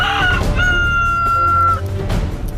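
Roosters at a cockfight in Lombok crowing loudly and close, with clucking fowl around them and a long drawn-out crow through the middle.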